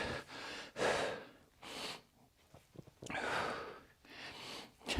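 Heavy rhythmic breathing during a home kettlebell chest press, sharp exhalations alternating with drawn-in breaths, close and fairly loud, with no talking.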